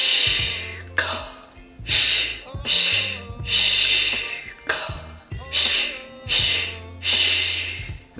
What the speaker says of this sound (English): to breathe out, we're gonna go shh, shh, shh